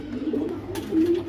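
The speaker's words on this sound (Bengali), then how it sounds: "এটা তো একটা পুরানো কাজ করা কবুতর" Pigeon cooing from an older working pigeon kept for breeding, a steady low murmuring coo that swells near the end, close and fairly soft with no talking.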